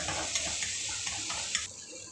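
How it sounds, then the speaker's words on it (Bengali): Tomato sizzles and fries in a covered pan while being cooked down for gatte curry, a steady close crackling hiss with a few light stirring clinks and scrapes, no voices. "টমেটোটা যতক্ষণে না গলে যাচ্ছে ততক্ষণ এটাকে আমি ভাজবো"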